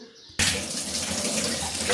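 Water suddenly gushes from a tap and keeps running steadily, splashing as a strainer is rinsed beneath it.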